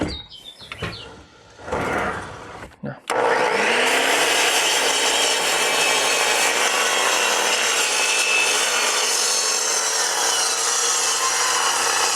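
A few brief knocks and scrapes, then steady, loud hand sawing through wood at an angled cut, continuing without a break for several seconds.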